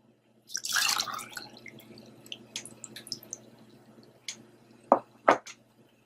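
Homemade mouthwash poured into a storage jar: an opening gush of liquid followed by scattered drips and small splashes, ending in a couple of sharper clinks or splashes near the close, with no talking.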